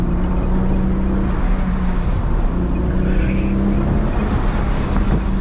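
A high-mileage Toyota Supra engine drones steadily and loud through a canyon turn as the car comes off the brake and onto the gas, with continuous road and wind roar from inside the car.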